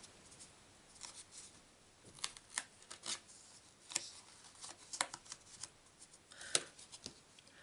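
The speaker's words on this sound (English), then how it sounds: "Put a bit of runner tape either side and we'll stick our tape lace on." Runner tape and lace tape being handled for a Stampin' Up papercraft card, quiet close crinkling, peeling and tapping with irregular small clicks and rustles, faint and without talk.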